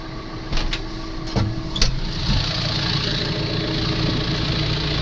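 A John Deere tractor engine runs at a steady idle-like drone, with a few short knocks and clanks near the start before the loud, even mechanical rumble carries on alone.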